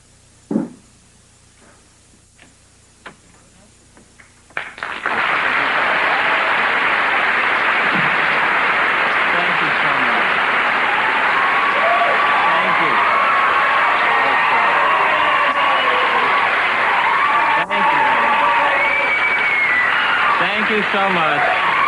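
A studio audience's applause starts with a few scattered claps and whoops, then swells abruptly into loud, sustained clapping and cheering that carries on steadily to the end.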